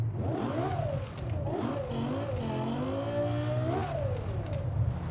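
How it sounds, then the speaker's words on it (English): A Lexus LFA engine in the video game Forza Horizon 4 revs up and down in sweeping, rising and falling waves, loud and close, with a smooth high-pitched howl on each climb. "They made a car sound good in this game."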